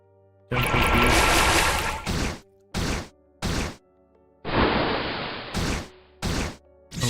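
A Downpour water spell effect for a mage battle in an RPG plays as repeated bursts of rushing, splashing water noise, two longer washes followed by several short sharp splashes separated by silence.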